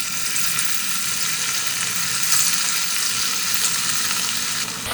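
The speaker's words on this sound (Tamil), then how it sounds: "இப்போ சிக்கன் வறுத்துக்கலாங்க." Chicken pieces fry in hot oil for restaurant-style chicken rice, a loud, dense, continuous crackling sizzle that holds steady throughout.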